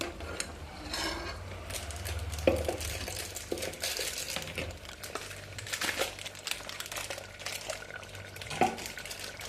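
Vegetable curry with chutney and tempering being stirred in a pot for a Kathiawadi stuffed brinjal and potato dish, giving soft scraping and wet crinkling sounds with a few sharper utensil knocks against the pot and no talking.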